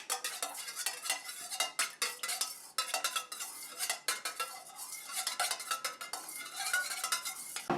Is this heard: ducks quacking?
no